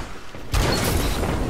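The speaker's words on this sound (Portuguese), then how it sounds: "Eu vejo tiros." A sudden burst of rapid gunfire in the video game Destiny's Crucible, hunter class, erupts after a quiet moment and continues densely to the end.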